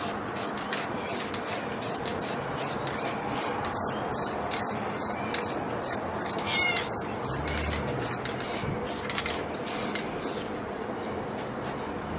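Spray primer is applied to a repaired car back panel with a welded bumper bar mount: a steady, close aerosol hiss runs through the whole stretch in short overlapping bursts, with no talking.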